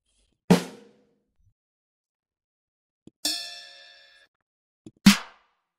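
AI-generated drum hits: three sharp, separate strikes with silence between, one with a bright metallic ring that decays slowly, played alone.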